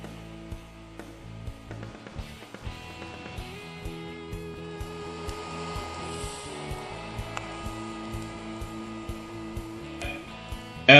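A TIG weld is made with a PowerMTS 250S inverter welder in DC lift-start mode using a foot pedal. A steady quiet buzzing hum carries on throughout with faint clicks and no talking.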